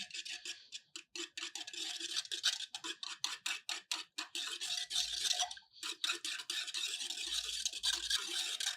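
Rapid, rhythmic scraping and clicking from a spoon whisking a thick knee-pain home remedy with water in a bowl, close and steady with no talk.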